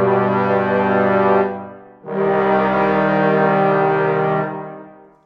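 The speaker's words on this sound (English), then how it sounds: "I am going to make sure that these notes just ever so slightly overlap so that we get that kind of really joined up sound" Orchestral brass programmed in Logic Pro plays two long, loud sustained legato notes that overlap slightly at the join, with no gap between them, then swell and fade away, with no voices.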